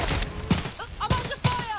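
Gunfire in the shooter game Watch Dogs: Legion, a few sharp thumping shots at roughly half-second gaps, loud and close, with voices talking over the action.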